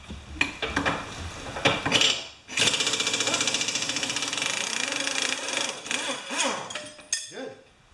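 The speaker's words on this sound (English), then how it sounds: "This particular air gun has enough pressure on the downstream side of the regulator." A pneumatic air gun works on an MTD Briggs and Stratton Classic mower, giving a loud, rapid hammering rattle for about three seconds between sharp metallic clanks and tool handling.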